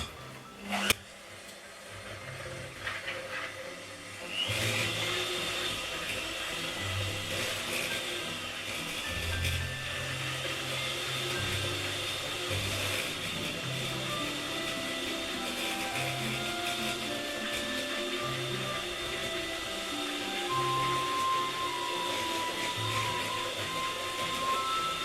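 Peanut butter and white chocolate blondie batter being mixed after an egg goes in, a steady whirring drone that runs on for about twenty seconds without speech.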